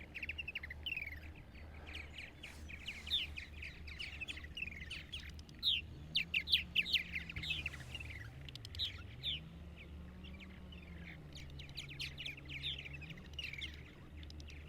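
Purple martins calling on Eastern Long Island, New York, by the beach in May: a steady stream of chirps, gurgles and rattling twitters at moderate distance over a low background hum, loudest in a dense burst midway.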